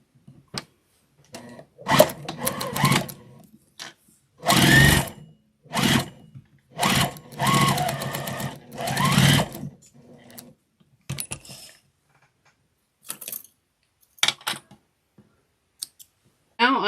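Short bursts of machine stitching and clicking handling noises come up close as a sewing machine sews across the boxed corner of a fabric Christmas car trash bag, with quiet pauses between the runs.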